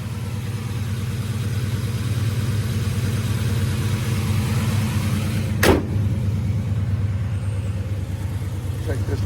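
A 1968 Chevelle SS 396 with a big-block V8 idles steadily, its low rhythmic rumble close and constant throughout, with a single brief sharp click near the middle and someone talking briefly.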